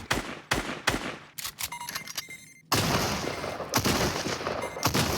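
Gunshots during an aim-training drill in Fortnite Chapter 3: a quick series of sharp, close shots with short echoing tails, followed by a denser stretch of continuous firing noise and more shots near the end.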